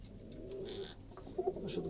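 Rooftop pigeons at night give low rolling coos, a couple of fuller throaty notes standing out near the end, steady and unaccompanied by voices.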